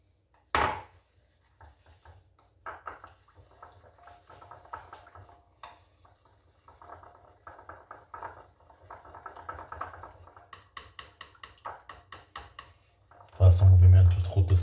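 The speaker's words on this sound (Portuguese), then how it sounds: "Façam movimentos de rotação, movimentos de esmagamento para algum pó mais resistente ser desfeito." Powder being ground and crushed in a container for homemade red lipstick, with intermittent scraping, tapping and rubbing strokes in irregular bursts, close and fairly quiet, ending with a louder knock.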